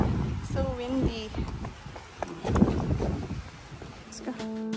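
Strong outdoor wind buffets the microphone with gusty rumbling and rushing noise, while someone talks intermittently and other faint voices are heard.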